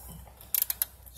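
A few quick metallic clicks from a half-inch drive ratchet with a deep socket working on Jeep Wrangler JK 3.8L valve cover bolts, short and close over a quiet garage.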